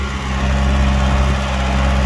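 VST Shakti 927 tractor engine running in first gear while pulling a tiller in a sugarcane field, giving a steady, loud, continuous mechanical drone with constant pitch throughout.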